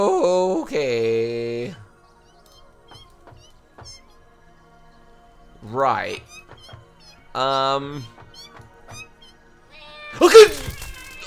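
Cats meow in the video game Satisfactory: several short, whiny meows come in separate bursts, with quiet gaps between them and a brief spoken word from a player.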